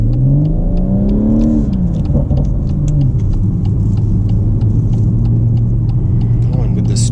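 A tuned BMW M140i engine revs hard and climbs in pitch, roaring close and loud as it accelerates around a roundabout, with a voice talking over it.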